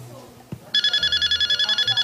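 After a brief soft thump, a telephone starts ringing in rapid, even electronic pulses that stay loud to the end of the clip, with faint voices at the start.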